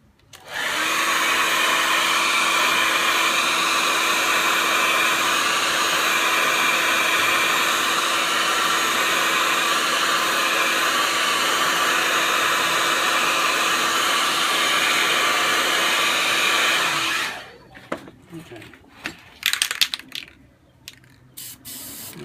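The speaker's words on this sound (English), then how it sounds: "I'm going to blow this dry" A hair dryer blows steadily and loudly for about seventeen seconds to dry spray paint art of a mountain scene, then cuts off, leaving a few soft handling clicks and rustles.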